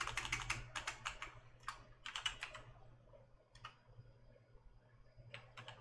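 Rapid keystrokes on a new computer keyboard, clicking in quick irregular bursts with short pauses, close and moderately loud over a low steady hum.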